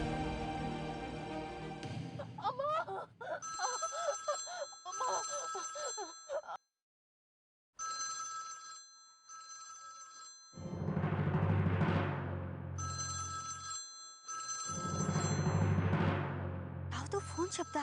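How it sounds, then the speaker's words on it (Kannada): A telephone rings in repeated bright, tonal bursts separated by short gaps, fairly close and clear, with a brief full silence partway through. "ಯಾವುದೋ ಫೋನ್ ಶಬ್ದ ಆಗ್ತಿರೋ ಆಗಿದೆಯಲ್ಲ"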